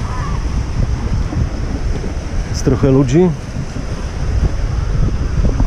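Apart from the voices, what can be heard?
sea waves breaking on a beach, with wind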